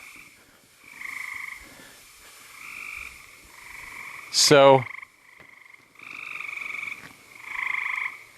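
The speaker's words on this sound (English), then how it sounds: "Mostly what I'm hearing are gray tree frogs." Gray tree frogs calling outdoors on a damp spring evening, repeated short trilling bursts from several frogs at moderate distance, with one loud, close sharp sound midway and a brief spoken word.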